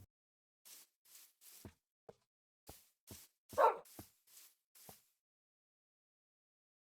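A forest dog in the Minecraft video game gives a string of short, sharp barks and yips, about a dozen in uneven rhythm, one longer whining bark in the middle, then silence.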